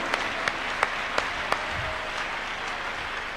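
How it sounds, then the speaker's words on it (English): A church congregation at a Tuesday miracle service claps hands, a soft, steady applause with a few sharper claps standing out, heard fairly distant and without talk. "Clap your hands unto God of the choosing."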